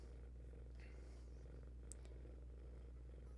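A cat purring steadily and loudly up close, a continuous low rumbling throb with no pauses.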